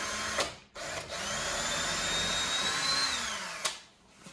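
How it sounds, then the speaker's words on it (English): A power drill bores a hole through a wooden peg climber frame, a steady high whine running for about three seconds between short bursts of motor start and stop, close and loud. "we're gonna go ahead and drill a hole through this whole thing that we will put our peg through"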